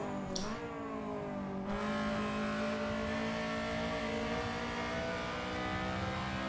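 A Honda Civic EG race car engine revs hard at Donington Park National, with a high harmonic whine shifting pitch through gear changes, loud and continuous from on board, with no talk.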